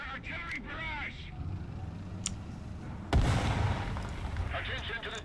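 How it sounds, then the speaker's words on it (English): An artillery barrage in the tank game World of Tanks lands as one sharp heavy boom partway through, with softer distant thuds and game sounds around it and a voice speaking over the start and the end. "is under artillery barrage."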